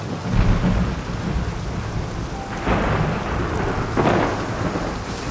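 Steady heavy rain with rolling thunder rumbles swelling twice, close and loud, no voices.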